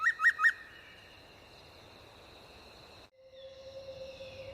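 A mimicking bird sings at dusk from a high roost, giving three bright pulsed chirps followed by sustained pure whistled tones that shift in pitch, clear and fairly close against a quiet background.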